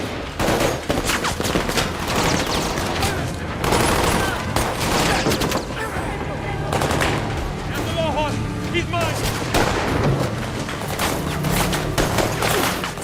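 Film action scene with a volley of gunfire, dense bursts of shots and impacts running continuously under a narrator's voice and a music bed.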